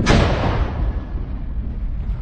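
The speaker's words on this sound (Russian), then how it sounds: "Выстрел." Artillery gun firing a shell in combat near Bakhmut, Ukraine: a single loud, close blast with a sharp onset, then a long rumbling decay.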